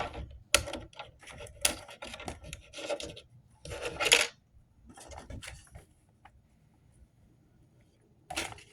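Paper parts for a homemade car model being cut out, with close scissor snips and paper rustles in short irregular bursts, a few sharper clicks, and a quiet pause before a final snip.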